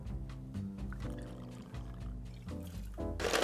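Gin poured into a chilled martini glass, a steady close liquid stream lasting a few seconds over faint background music, with no speech.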